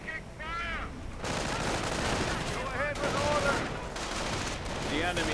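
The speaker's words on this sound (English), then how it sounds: "Riflemen getting gunned down." Rapid, dense gunfire rattles through a strategy video game battle, sustained and busy with overlapping shots and bursts, while a voice talks over it.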